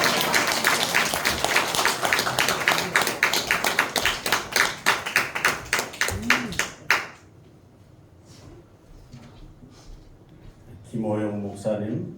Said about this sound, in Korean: 우리 목사님 모실 때 박수로 모시겠습니다